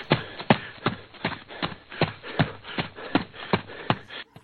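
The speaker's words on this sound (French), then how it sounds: "Et il entend des bruits de pas autour de chez lui." Footsteps circling outside a house, about a dozen evenly spaced shuffling steps at a walking pace, fairly close and clear, with no voices over them.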